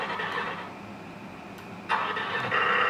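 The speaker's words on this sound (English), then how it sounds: "Engine start, like a horn." A 1/14 scale LESU Aoue-DT60 hydraulic RC bulldozer's onboard sound system plays an engine start effect, a steady electronic engine hum that jumps louder near the end as the simulated motor catches, heard alone with no talk.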